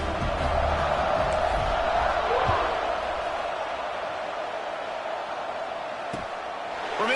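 Football stadium crowd at a Gophers versus Notre Dame game roaring steadily during a kickoff, a broad sustained wash of cheering and shouting with a few sharper whoops, loud and continuous throughout.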